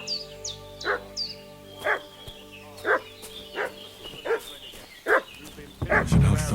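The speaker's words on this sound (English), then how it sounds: "What's that dog making such a fuss about?" A dog in the video game Kingdom Come: Deliverance 2 barks repeatedly in a steady rhythm, about one bark per second at moderate distance, over faint ambient music, with a higher whine or yip near the start.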